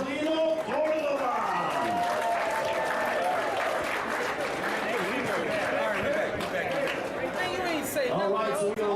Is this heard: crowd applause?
yes